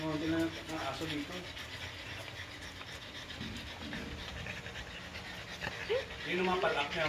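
A French Bulldog pants steadily at close range through a lazy afternoon indoors, its fast breathy rhythm running under people talking nearby.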